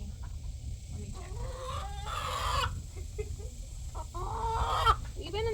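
A Welsummer chicken being handled for leg banding gives a run of loud, close clucks and drawn-out protesting squawks, with quieter background noise throughout and almost no talk.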